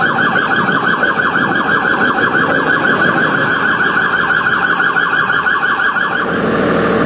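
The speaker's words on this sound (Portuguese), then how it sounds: "Ambulância passando" An ambulance siren wails loud and continuous with a fast, repeating warble as it passes through the streets of Petrópolis during flood and landslide rescue work, with no speech over it.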